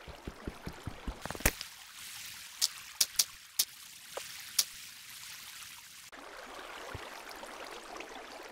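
Water gushing from a freshly placed water source block in a Minecraft iron farm tower, a steady trickling flow running throughout, with clicks of blocks being placed near the start and several sharp taps scattered over it.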